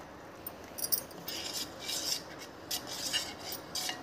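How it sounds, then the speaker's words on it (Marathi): Rice flour batter with salt being whisked in a bowl, giving quiet, irregular scraping and clinking strokes of utensil against the bowl, faint and close, with no voices. "एकजीव करून घ्यायचं आहे, व्यवस्थित फेटून घ्यायचं आहे, गुठळ्या नाही राहत्या पाहिजे"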